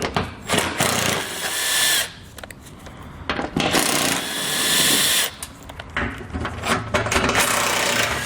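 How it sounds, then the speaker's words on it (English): A 13mm socket on a power tool removing the skid shield bolts under a 2017 vehicle, with loud bursts of whirring and rattling separated by short gaps. "in order to remove our skid shield here, we're going to get a 13mm socket"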